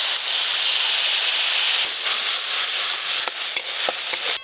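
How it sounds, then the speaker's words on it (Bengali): A bitter bottle-gourd-greens dish cooks in a little mustard oil in a wok, giving a loud, close, steady sizzle with occasional stirring scrapes and taps. "এবার আমি তেঁতোটা ছকে নেব, সর্ষের তেল দেব কড়াতে, একদম অল্প তেলে রান্না করব।"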